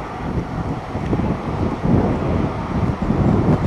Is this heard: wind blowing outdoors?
yes